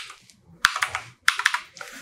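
A computer keyboard clacks in two quick bursts of keystrokes while a new password is typed, with a brief pause between the bursts.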